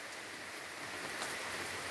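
Heavy rain pours steadily on a farm at Pé do Veado, a broad continuous hiss with no talk.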